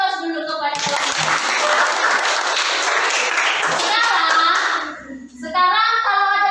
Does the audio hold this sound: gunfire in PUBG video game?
no